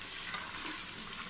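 Salt, cumin and ajwain stirred into hot oil in a chicken pilaf pot, giving a steady, soft sizzle and frying hiss with faint stirring, no voices.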